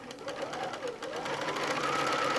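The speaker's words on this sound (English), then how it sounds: "So I will sew until I'm about 1/4 inch from the end." A sewing machine stitches charm-pack quilt pieces for a table runner, a steady close whirring hum with a rising pitch as it runs continuously.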